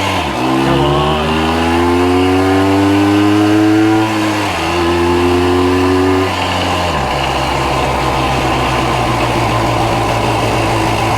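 A 1965 Montgomery Wards Benelli scrambler motorcycle engine runs loud and close while ridden, its pitch climbing through revs, dropping at gear changes and climbing again, with a steady buzzing drone throughout.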